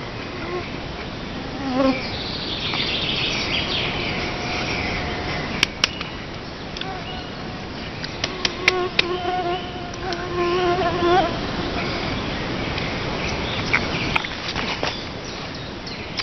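Continuous mosquito buzzing and whining fills the air outdoors, steady and fairly close, with a few sharp clicks and faint bird-like tones mixed in.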